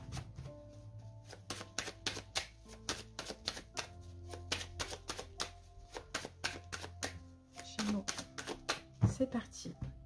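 Rider-Waite tarot cards being shuffled and cut, a long run of crisp rapid card snaps and flicks in uneven bursts, close and fairly loud, with a few heavier taps near the end.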